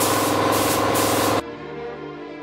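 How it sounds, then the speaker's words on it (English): A spray gun hisses steadily as it sprays PVA release agent onto a mold for fibreglass and carbon fibre race car bodywork, a loud close hiss that cuts off abruptly partway through, leaving a quieter background hum. "if you've got a spray gun, it's the best way of doing it, and that's how I'm going to do it"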